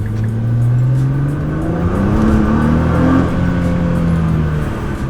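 A Nissan GT-R R35 accelerates hard, its engine note climbing steadily in pitch across several rising sweeps, loud and close with a continuous strong roar and no talking.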